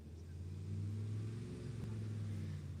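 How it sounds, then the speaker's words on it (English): A Dodge truck's big 5.7 V8 engine idles and revs in a steady low rumble, heard faint and from a distance, with the pitch rising slightly midway. "He's out there revving it up right now."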